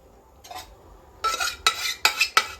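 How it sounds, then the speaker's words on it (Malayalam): Kappa biryani of tapioca, beef and bones being mixed in a pot, with loud bursts of spoon-on-metal scraping and clatter that come in uneven strokes and grow stronger toward the end; no talking. "എല്ലും ബീഫും എല്ലാം കൂടെ ഇട്ട് ഇനി ഇതൊന്ന് മിക്സ് ആക്കണം"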